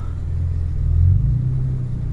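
A turbocharged five-speed, four-wheel-drive Audi GTO race car in iRacing, its engine a steady, loud low rumble that swells briefly as it revs, with no talk over it.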